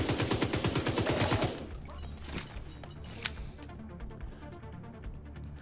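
A submachine gun in the shooter Division 2 rattles off a fast, loud burst for about a second and a half, followed by quieter ambient game noise with scattered clicks and distant pops.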